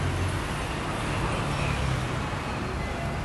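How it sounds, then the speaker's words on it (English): Steady, dense road traffic rolling through a town street in Samkong, Phuket, Thailand, a continuous close roar of passing vehicles with no clear gaps and no voices. "a lot of traffic that goes through this part of town."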